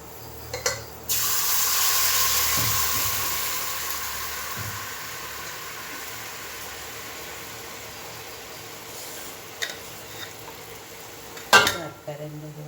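Jaggery syrup poured into a pan with a drop of ghee while making payasam: a loud, sizzling hiss rushes in near the start and fades gradually, followed by quiet with a few sharp clinks.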